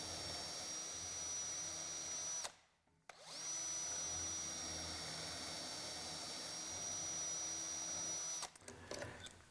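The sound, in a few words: drilling holes through BeadLock drilling guide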